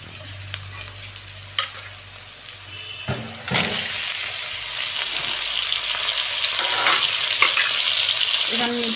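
Meat being fried in a pan, a close, steady sizzle that jumps to a loud, continuous hiss partway through, with scraping stir sounds and a few clinks scattered across it.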